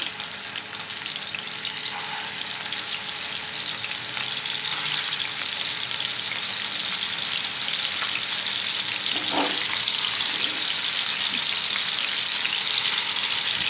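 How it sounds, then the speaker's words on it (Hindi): Handi kebabs shallow frying in oil in a pan give a steady, close hiss of sizzling across the whole stretch, with a few brief spatters and faint utensil clicks near the middle and no talking. "अब एक एक करके आप इसमें कबाब इस तरह से रखें। इसे शैलो फ्राई करने हैं हमने।"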